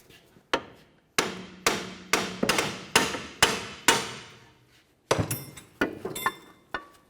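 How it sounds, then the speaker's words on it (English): Hammer blows strike the steering knuckle of a 2005-2012 Volvo S40 during front wheel hub bearing replacement, about nine sharp metallic hits in two bursts, close and loud, each ringing briefly before the next. "Let's take our hammer and hit right up along the top of this knuckle right here."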